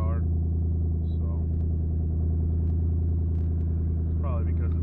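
A turbocharged BMW E90 sits idling after a turbo build, giving a loud, steady low rumble with an even pulse throughout, as someone speaks briefly over it close by.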